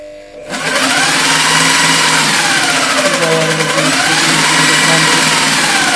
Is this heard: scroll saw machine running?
yes